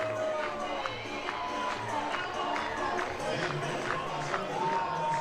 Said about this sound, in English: How about this crowd, too?